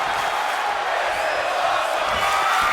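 Spectators at an independent EPW world championship wrestling match roar and cheer in a steady, dense wash of crowd noise that holds at an even level throughout, with no single voice standing out.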